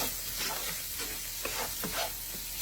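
Paprika and seasoning get stirred in a hot pan, with soft scraping strokes over a steady close sizzle of frying food.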